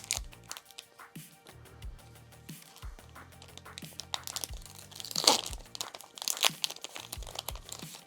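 A Magic: The Gathering Wilds of Eldraine collector booster pack wrapper is torn and crinkled open, producing close, continuous crackling and crunching foil sounds with sharp tearing peaks, with no speech over it.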